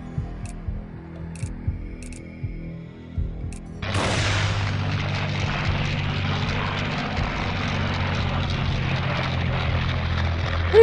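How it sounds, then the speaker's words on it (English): Missiles firing in the Combat Wings flight combat game: a sudden loud roaring burst that then holds as a steady rushing, rumbling roar, following quieter engine drone and faint thuds. "I just fire a lot of my missile"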